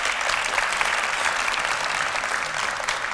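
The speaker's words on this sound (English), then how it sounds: "Let's give them a big round of applause." Sustained audience applause at an athletics expansion news conference, a dense, steady wash of many hands clapping at even loudness throughout with no talk over it.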